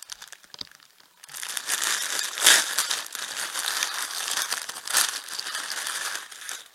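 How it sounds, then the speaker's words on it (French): A plastic package of wool yarn balls is torn open nearby, giving loud, continuous crinkling and rustling with a few sharper tearing bursts. "Alors je vais ouvrir mon petit paquet."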